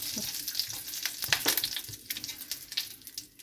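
Curry leaves frying in hot oil for onion chutney, a bright crackling sizzle with spitting pops and stirring scrapes, loud and close, easing slightly toward the end.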